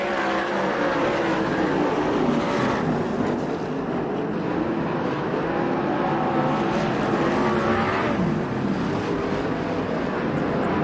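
USAC/CRA sprint cars race at Manzanita Speedway, their engines a continuous loud roar that rises and falls as the cars pass, with no voices over it.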